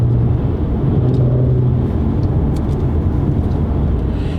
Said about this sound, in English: hear the engine drop down a couple of gears